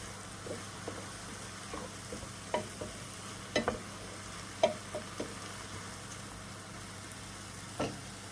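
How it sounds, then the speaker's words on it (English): Fresh chorizo sizzles steadily in a frying pan, with scattered pops and crackles and occasional stirring scrapes, no voices. "you really see it sizzling there. Hear that sizzle."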